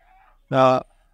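A single short, loud squawk comes from market-bought chickens held in a cage, with quiet surroundings before and after.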